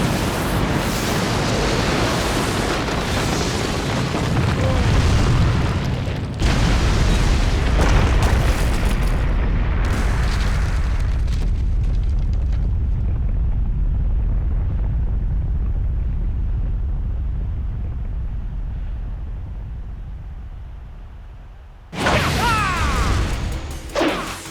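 A Naruto anime fire-style jutsu explosion erupts as a roaring blast with a second boom, then a long fading rumble that dies to near silence before a final sharp burst.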